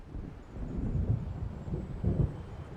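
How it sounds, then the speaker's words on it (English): Low rolling thunder rumbles in Alan Wake Remastered as a storm approaches, a deep distant swell with gusty wind noise and two heavier rumbles. "It seems there's a storm coming."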